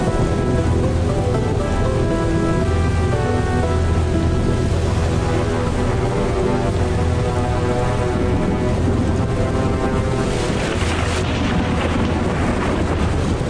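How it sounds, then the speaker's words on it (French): A storm sound effect of steady, dense rain mixed with low rumbling, continuous and loud from start to finish, swelling slightly in the last few seconds. "Au secours, il y a une tempête!"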